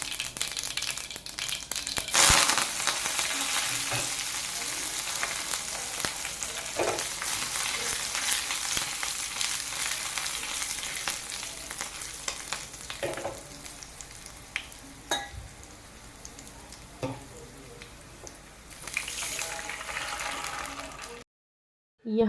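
Mustard seeds, curry leaves and green chilli fry in hot oil for a tadka, giving a loud, continuous close sizzle with crackles and stirring scrapes, and no talking.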